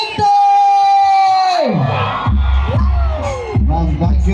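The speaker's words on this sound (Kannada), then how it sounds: "ಒಮ್ಮೆ ಜೋರಾಗಿ ಚಪ್ಪಾಳೆ ಬರಲಿ" A large crowd at a village fair stage show roars, whoops and whistles loudly for the season 12 Bigg Boss winner, with booming bass music thumping underneath.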